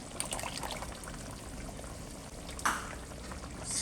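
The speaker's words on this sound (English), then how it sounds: "I'm going to add my cup of coconut milk." Coconut milk pours into a pot of Jamaican curry goat with a soft liquid trickle and splash, a brief louder splash near the end, fairly quiet and close.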